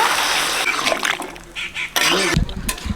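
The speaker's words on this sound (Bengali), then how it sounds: "গরম মশলা দিচ্ছি জল দিচ্ছি সামান্য" A little water poured into a pan of prawn curry that is cooking down near the end, giving a brief close splash and sizzle amid kitchen clatter.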